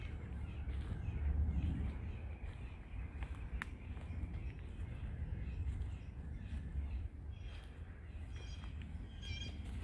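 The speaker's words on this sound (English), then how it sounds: "there's some bird. Oh, it's a blue jay." Outdoors at an abandoned prison farm in Poquessing Creek Park, Philadelphia, a blue jay's harsh calls ring out intermittently at a distance over a steady low rumble of ambient noise.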